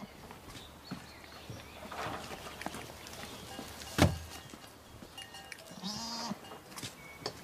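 Goats bleat faintly amid a busy farmyard background, with a sharp knock near the middle and a short bleat later on.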